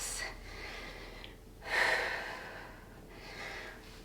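Slow, deep breaths during a Pilates cool-down after light-weight exercises: a long inhale and exhale, a louder breath near the middle, then another softer one, close and unaccompanied by speech.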